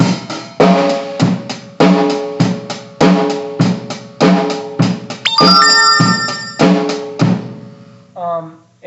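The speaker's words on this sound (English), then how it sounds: "many rhythms and beats start with the hi-hat, snare, and bass drum" A drum kit plays a steady 4/4 rock beat with bass drum, snare and ticking hi-hat in even time, ending with a brief ringing chime.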